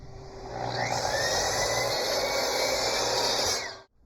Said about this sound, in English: we'll bring our board over to the miter saw. I need 2 cross cuts at 16 1/4 inches wide.